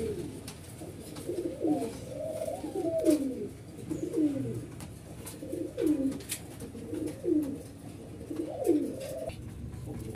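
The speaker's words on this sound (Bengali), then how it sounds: "আপনি স্ক্রিনে দেখতে পাচ্ছেন আরেক জোড়া সিরাজি লাহোর কবুতর" Sirazi Lahori pigeons cooing close by, a pair kept for sale, giving repeated rolling coos in a steady rhythm of about five calls over a low background hum.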